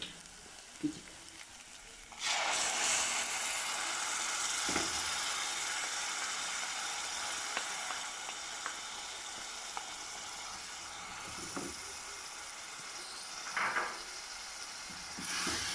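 Tomato and green chili paste fries in a pan with a steady sizzle, starting abruptly after a short quiet, with occasional stirring scrapes over a constant hiss.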